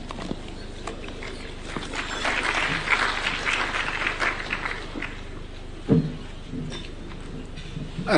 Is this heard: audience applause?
yes